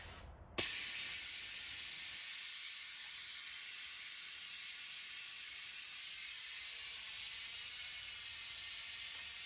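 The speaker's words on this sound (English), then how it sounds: "there's a valve over here where you could open and release the air" Compressed air bursts from a valve during an oil service on a Ferrari F355, a sudden loud, steady hiss that starts abruptly and holds for several seconds.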